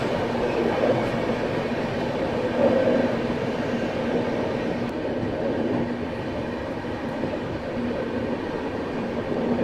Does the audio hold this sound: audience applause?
no